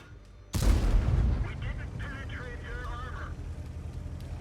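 Tank cannon fire in an online tank battle game, one heavy booming shot followed by a rumbling decay while a commentator talks over it.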